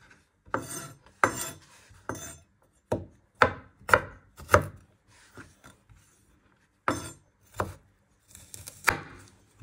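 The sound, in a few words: knife chopping ingredients finely for Thai meatballs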